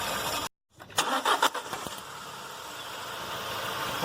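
A VW Passat petrol engine with a misfire under load cuts out abruptly, leaving a short silence before it cranks, fires and settles back into a steady idle.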